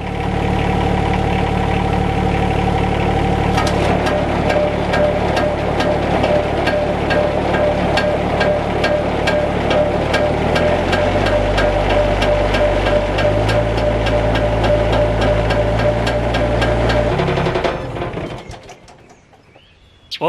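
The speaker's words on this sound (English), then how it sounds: "Let's fire the tractor back up, engage the PTO," Kubota RK25 tractor running with the PTO engaged and driving a tiller, a loud steady mechanical drone with rapid clattering that shifts pitch partway through and then cuts out near the end, with no voices.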